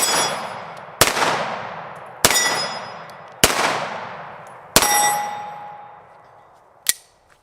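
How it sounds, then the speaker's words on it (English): Five loud pistol shots from a Girsan Regard MC and a Beretta 92FS, both fired one-handed at a range, come at steady intervals of about a second, each a sharp crack with a long ringing decay, and a fainter metallic clink follows. "I'm going to shoot each of these one-handed"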